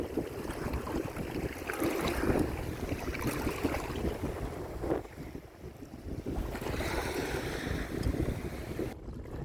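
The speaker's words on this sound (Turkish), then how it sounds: "Gördüğünüz gibi dalgalar geliyor." Sea waves surge and slap around a small kayak off Florida while gusty wind buffets the microphone, with a brief lull midway.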